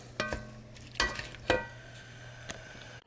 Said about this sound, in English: Just going to stir it up, let it cook for 2 more minutes